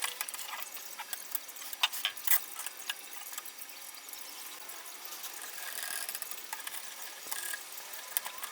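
Bessey clamps being ratcheted tight during a modern-style wooden crib build, a faint run of quick ratcheting clicks with a few sharper ticks, heard alone.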